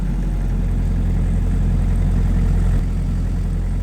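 A Shindaiwa DG259MI 25 kVA diesel generator engine runs with a loud, steady low drone as its RPM is turned down, and the pitch drops noticeably near the end.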